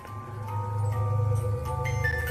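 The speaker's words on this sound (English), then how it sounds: "all you have to do is walk past this music box and it'll play a sound just like that" A motion-triggered music box plays a short, faint tune of clear ringing notes over a low hum, lasting only a couple of seconds.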